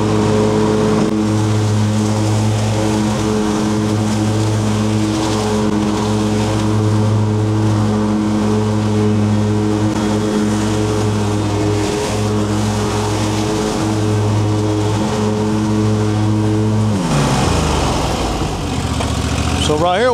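A lawnmower engine drones steadily at close range, holding a constant pitch before shifting and changing tone near the end.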